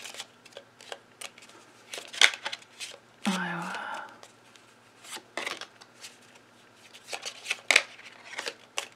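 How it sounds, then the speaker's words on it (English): A deck of playing cards is being shuffled and handled at close range, giving short crisp riffles and flicks scattered between quiet gaps, with one longer burst of sound in the middle. "See, I can't shuffle that way."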